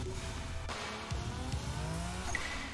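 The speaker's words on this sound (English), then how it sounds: "I love the accelerating noise. It's like you're accelerating a car." A car-like accelerating whine from the video game Kite, a revving engine tone that rises and sweeps in pitch with squeal-like edges, steady and fairly loud with no talk over it.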